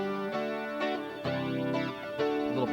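Electric guitar played with a stereo chorus effect, chords ringing out in several sustained strums with a shimmering, slightly distorted tone, loud and close with no voices.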